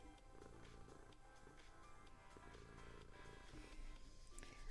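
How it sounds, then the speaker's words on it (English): A cat's soft, continuous purr runs steadily through the whole stretch, close by with a faint low rumble and no talking over it. "But she's purring, so obviously she's not too bad."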